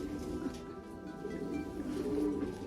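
Pigeons coo softly in a low, warbling murmur, fairly faint with repeated rounded calls against a quiet background.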